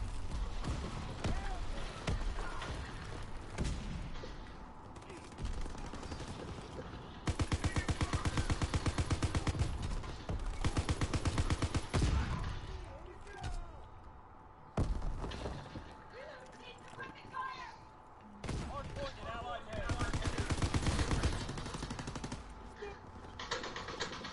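Rapid bursts of automatic gunfire from shooting at zombies in a WW2 zombie horde video game, near and loud, in long sustained volleys with brief gaps, while players talk over it.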